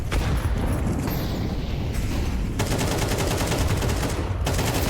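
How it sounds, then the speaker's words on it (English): AK rifle gunfire during a Counter-Strike match, a loud, dense and continuous stretch of rapid shots and impacts filling the whole moment, with no pauses. "The AK swings and Xanta wins the fight."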